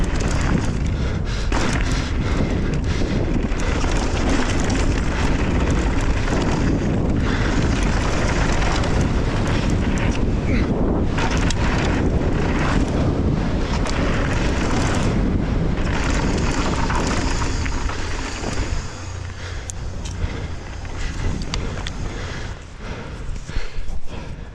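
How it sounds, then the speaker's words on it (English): Steady, loud wind buffets the microphone throughout on a mountain bike trail at Windrock Bike Park, a continuous low roar that eases slightly near the end. "Let's not get caught by the wind this time."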